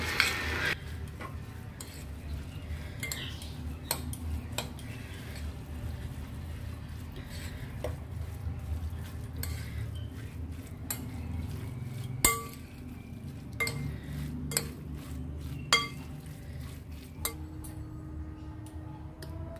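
Mango pickle is stirred and mixed with oil in a bowl, with a soft continuous scraping and squelching broken by sharp clinks of a utensil against the container, close and fairly quiet.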